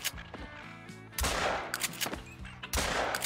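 Shotgun blasts while duck hunting in theHunter: Call of the Wild, with three loud, sharp reports spaced about a second and a half apart, each followed by a short echoing tail over faint ambient marsh sound.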